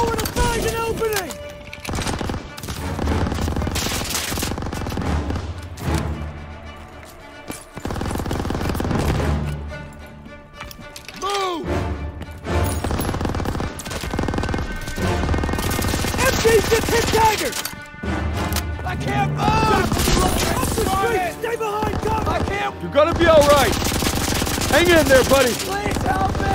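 Rapid machine gun bursts rattle through a Call of Duty WW2 street fight in Aachen, Germany, coming in repeated close volleys among other gunfire while soldiers shout over the combat.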